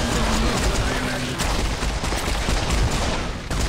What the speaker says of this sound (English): I'm literally shooting everywhere at this point because I can't see.